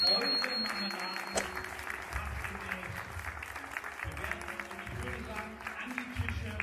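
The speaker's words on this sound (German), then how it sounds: "gibt Ihnen jetzt mal einen riesen Applaus" An audience at an autumn market at Gut Basthorst claps steadily and fairly loudly, mixed with music and a voice speaking over the applause.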